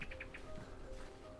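Birds call on a foggy beach on the Danish west coast, a few short bright chirps in quick succession at the start, then fainter calls over steady wind and surf-like background noise, moderately distant, with no talking.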